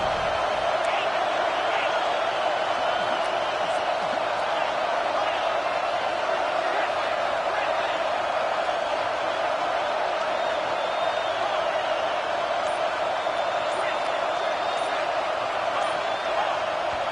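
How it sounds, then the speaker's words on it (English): Stadium crowd roar in the college football video game NCAA Football 26, a steady loud wash of massed voices rising in intensity, sustained throughout with no pauses. "this crowd is turning it up a notch"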